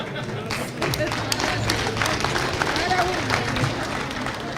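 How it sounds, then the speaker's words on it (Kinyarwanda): Sustained crowd applause with lots of clapping at a live stand-up comedy show by the comedian Isakari, steady and fairly loud throughout, with voices mixed in. "amashyi menshi cyane"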